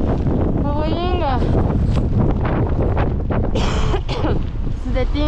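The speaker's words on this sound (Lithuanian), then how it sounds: "Labai stiprus vėjas" Strong wind in Iceland buffets the microphone in loud, continuous roaring gusts, with a voice talking over it.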